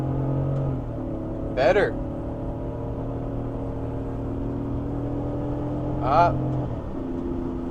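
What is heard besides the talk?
BMW E83 X3 engine revving in third gear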